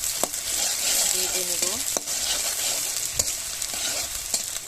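Chopped onion going into hot oil and frying, with a steady bright sizzle throughout and sharp clacks of a utensil against the pan, under a brief spoken line.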